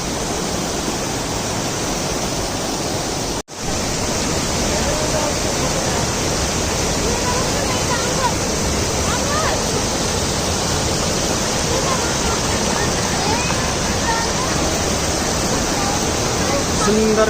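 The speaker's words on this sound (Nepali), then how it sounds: "सुन्दर झरनाहरू झरिरहेका छन्।" Waterfalls along the Gosaikunda trekking trail roar loud and close in a continuous, unbroken rush that fills the whole stretch, with only one momentary dropout.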